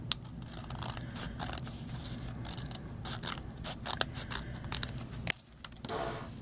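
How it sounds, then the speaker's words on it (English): Scissors trim a paper craft bag topper, making quiet, close snips and small mechanical clicks with a soft rustle of paper between cuts and one sharper snap near the end. "And then I'm going to trim it off."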